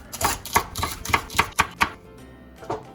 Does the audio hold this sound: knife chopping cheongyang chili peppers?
yes